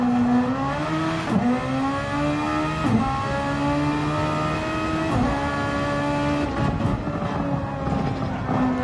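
A vintage Formula One race car in Grand Prix Legends on a push lap around Lago Maggiore howls at a high, steady pitch. The engine climbs through the revs with brief dips at gear changes, loud and continuous with no talk.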